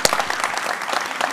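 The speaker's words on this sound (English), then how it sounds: "let's give Tessa another round of applause" Audience applause for Tessa Kriesel at a talk, a steady dense burst of clapping filling the room throughout.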